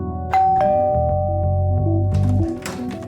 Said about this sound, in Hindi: अब मेरे 2 ऑफिसर डोरबेल बजाएंगे